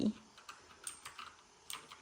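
Light typing on a computer keyboard during a basic computer lesson, heard as scattered soft key clicks at an irregular pace. The sound is quiet and slightly distant, with no talk over it.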